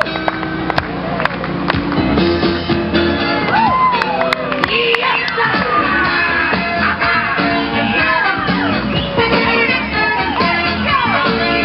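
A crowd at a boys' gymnastics meet shouts, whoops and cheers continuously over loud music, with some clapping mixed into the dense, energetic noise.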